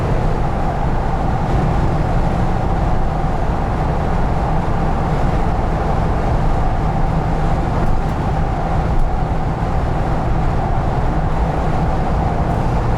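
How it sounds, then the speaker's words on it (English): Steady broadband wind roar fills the cabin of a 2021 Ford Bronco Black Diamond Sasquatch 2-door while driving with the flow of traffic, constant and loud under a low road rumble, with no talking. "there's a lot of wind noise"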